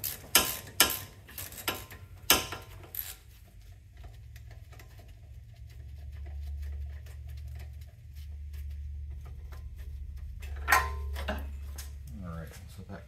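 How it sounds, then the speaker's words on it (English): A tool loosens the bolt holding the brake strut on a 2007-2011 Toyota Yaris, producing a series of sharp metallic clicks and knocks at the start, then quieter mechanical handling and another burst of clatter near the end. "like the bolt that keeps it onto the strut. Gotta loosen it,"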